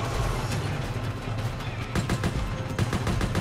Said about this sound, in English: Dude, how much bullets does it take to weaken the Nemesis?